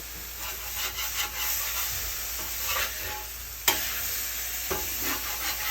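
Smash burgers sizzle on a well-seasoned griddle, a steady close frying hiss broken by the scrape and clack of a spatula as patties are flipped, with no talking.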